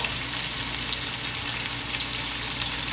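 Salmon fries in a pan over medium-high heat, giving a loud, continuous sizzle and crackle with a constant bright hiss and no talking.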